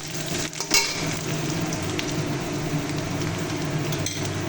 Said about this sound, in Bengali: তাহলে এবার আমি দিয়ে দেবো কড়াইয়ের মধ্যে আমার আগে থেকে ভেজে রাখা পেঁয়াজ রসুন বাটাটা